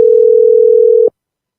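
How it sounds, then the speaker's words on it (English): A telephone rings on the line as a single steady electronic tone heard through the receiver, lasting about a second before cutting off into silence. "The phone ringing now."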